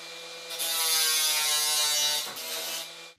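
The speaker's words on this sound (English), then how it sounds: "the screws are going to stick out a little bit on the back, so I'll cut those off with the grinder" An angle grinder cuts off screw ends sticking out of the back of a wooden box, spinning up to a loud, steady, high whine for about two seconds, dipping briefly, then winding down at the end.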